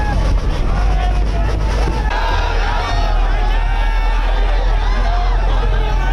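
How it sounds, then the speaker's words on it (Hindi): Dense crowd noise fills the streets at a BJP roadshow in Hyderabad, a steady loud roar of many voices and traffic without pause. "हर तरफ सड़क पर लोगों का हुजूम, लोगों की भारी भीड़, जोरदार तरीके से स्वागत भी किया जा रहा है।"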